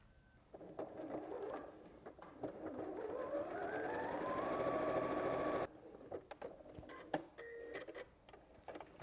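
A sewing machine stitches a quilt block in one straight line, its motor whirring and rising in pitch through a sustained run of several seconds, then stopping into quieter handling clicks.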